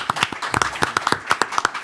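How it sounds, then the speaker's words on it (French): Applause from an audience at an Orléans property event honoring a notary, heard as a brief burst of close, uneven hand claps with no talking. "Applaudissements pour Maître Butté"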